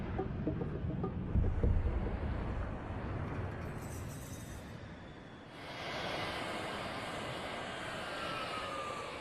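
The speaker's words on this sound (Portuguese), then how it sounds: "Mike Zolensky, um cientista da NASA, envia jatos de grande altitude para peneirar partículas no céu." High-altitude jet aircraft roar steadily overhead as a broad, even wash of engine noise that shifts partway through, with no voices.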